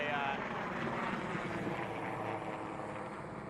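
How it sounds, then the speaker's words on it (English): A helicopter flies overhead after lifting off from Penticton Airport near the Christie Mountain wildfire, a steady loud rotor and engine roar with no clear rise or fade. "one of those helicopters just took off from Penticton Airport and flew right over my head here"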